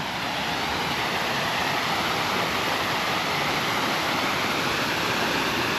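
Haleri waterfall near Madikeri sends a constant, loud roar of rushing water, a dense unbroken wash of white-noise-like sound with no pauses and no voices.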